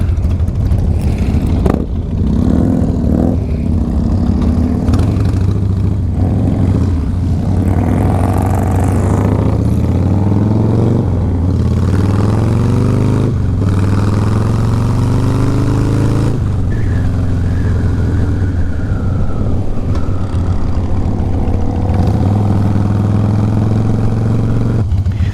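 Harley-Davidson motorcycles from a Hog Chapter group ride rumble loudly on the road, engines rising and falling through gear changes and throttle swells, with wind rushing past the rider throughout.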